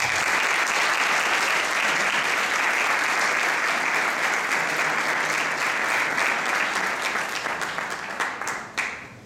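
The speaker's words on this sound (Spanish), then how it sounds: "Lo recibimos con un fuerte aplauso." An audience gives a lecturer a warm welcome with loud, sustained applause from many hands, holding steady for several seconds before thinning out at the end.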